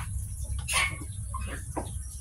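A chicken gives a short burst of clucking against a low background hum, followed by a couple of quieter squawks.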